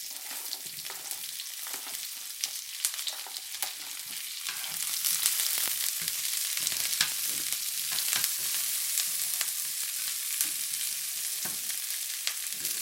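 Garlic, ginger and onions fry in a hot pan, giving a steady close crackling sizzle broken by frequent sharp pops and spits, with no voices.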